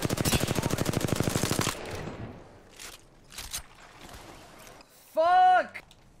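Rapid automatic gunfire in the Apex Legends video game opens with a dense burst of close shots, followed by a few scattered single shots, footsteps and a brief tonal game effect, while a player speaks over it.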